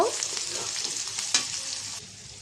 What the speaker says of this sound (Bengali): এখানে পেঁয়াজ কাঁচামরিচ রসুন কুচি দিয়ে দিলাম পেঁয়াজটা একটু ভেজে নেব